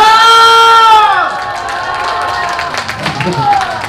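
Outdoor festival crowd in Pyeongtaek at a pumba street-performer show breaks into clapping and cheering mixed with shouting voices. A performer's amplified voice rings out first, then gives way to a loud, busy wash of crowd noise.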